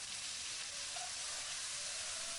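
Ground spice paste sizzles steadily in hot oil in a wok, a continuous close, loud frying hiss with no pauses.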